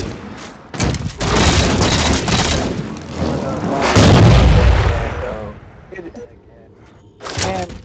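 Carbine fire rings out during a Capture the Flag match in Halo 4, heavy booming shots and blasts layered under players' chatter.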